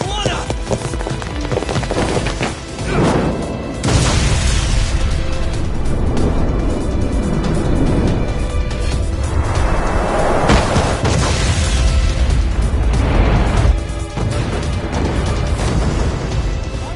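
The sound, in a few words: ship explosion in the video game Lost Judgment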